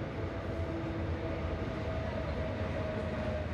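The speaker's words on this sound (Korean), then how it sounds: "저 멀리서 기차 한 대가 한겨울 새벽 공기를 가르며 플랫폼으로 들어섭니다." A train pulling into Gupo Station platform in the dark before a winter dawn, a steady loud rumble of rolling wheels with a faint sustained squeal, no voices.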